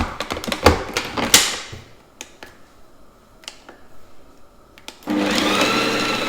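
A Ninja Creami starts its mix-in cycle after a run of clicks and taps, then settles into a loud, steady whirring motor hum that continues to the end.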